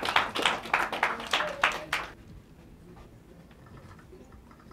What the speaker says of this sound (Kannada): ಜೋರಾದ ಚಪ್ಪಾಳೆ ದಯವಿಟ್ಟು ಬರಬೇಕು